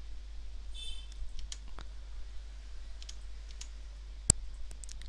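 A computer mouse clicks a few times while a folder is shared in Windows, sparse and close small taps over quiet room hiss, with one sharper click near the end.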